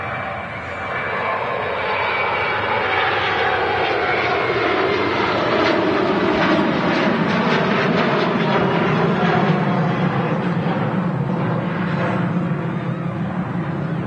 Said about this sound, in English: Ryanair off to Porto.